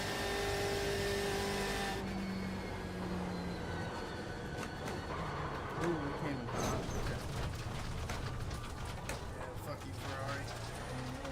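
Ferrari race car engine in the iRacing sim on the Nürburgring: a steady, fairly faint engine drone with shifting pitch, sitting under occasional talk.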